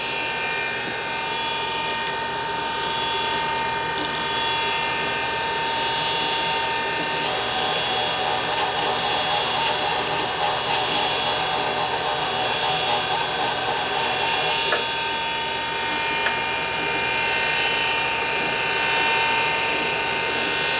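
A valve seat on a 1981 Harley-Davidson XL Sportster 1000cc ironhead cylinder head is ground with a hand tool, producing a steady, loud, continuous ratcheting, gear-like whirr for about twenty seconds with faint background voices.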